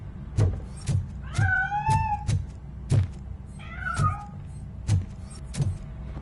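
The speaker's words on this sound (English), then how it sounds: "That cat must be hiding inside." A cat in the video game Robocop Rogue City meowing repeatedly as it escapes from inside a piano: several drawn-out, rising and falling meows between regular low thuds, close and clear, no talking.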